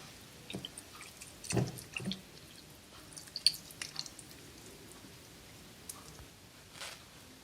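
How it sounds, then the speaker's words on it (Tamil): Hands rub masala into raw chicken for tandoori in a home kitchen, giving faint, sporadic wet squishing and dabbing sounds with long quiet gaps in between. "இப்போ சிக்கனில் மசாலாவை நல்லா அப்ளை பண்ணி விட்டுருங்க."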